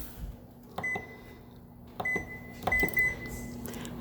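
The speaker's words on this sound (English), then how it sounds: "I'm going to make the microwave one go for 10 to 15 minutes" Several short electronic beeps from a microwave's control panel, with clicks of buttons being pressed and a steady low hum in the background.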